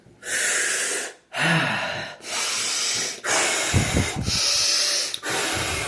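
Forceful exhalations of smoke, five or six long breathy bursts in a row, each close and loud with brief pauses between them, and no talking.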